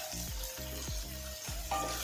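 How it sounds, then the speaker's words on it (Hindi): Capsicum and chopped green chillies sizzle in a pan for chicken chilli fried rice, a steady loud fry broken by three rhythmic scraping stirs of a spatula, with no voices. "1 से 2 मिनट फ्राई करेंगे।"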